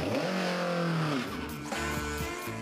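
Real 1970s McLaren and Ferrari Formula 1 cars scream past, the engine pitch rising and then dropping sharply as they pass, followed by lower revving and gear changes.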